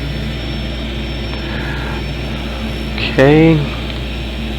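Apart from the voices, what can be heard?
Boeing 737 aircraft engine starting up in X-Plane 12 video game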